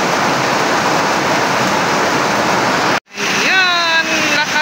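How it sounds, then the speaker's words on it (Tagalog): Heavy rain pours down on a rainy Sunday, a loud, dense, steady hiss that cuts off abruptly after about three seconds. A voice speaks once the rain sound breaks off. "Ayan, lakas ng ulan at nalibre na po kami ng tubig."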